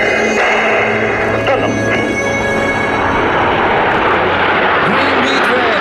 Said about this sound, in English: This proving the technical features of our MB-339 and aircraft able to sustain a prolonged upside-down flight